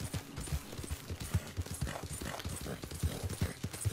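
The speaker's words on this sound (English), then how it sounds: "It's the horse." Horse hooves clip-clopping in Red Dead Redemption 2, a steady galloping rhythm of thuds with scattered crackles and ambient outdoor noise, moderately loud and close.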